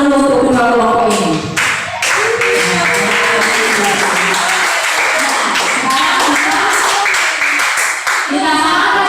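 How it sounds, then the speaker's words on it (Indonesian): Loud classroom applause from students, dense steady clapping that fills the moment, with voices calling and chattering over it throughout. "Kita beri tepuk tangan dulu untuk kedua kelompok ini."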